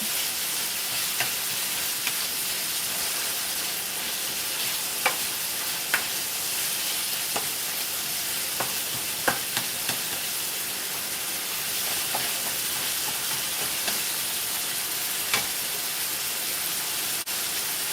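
Seasoning being stirred into a frying pan for taco salad gives a steady close sizzle with soft scraping and occasional light clicks of the spoon against the pan, continuous for the whole stretch with no talking.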